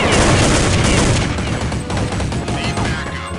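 Heavy gunfire in Counter-Strike, with loud rapid automatic bursts overlapping into a continuous, dense barrage that stays close and intense throughout with no pauses.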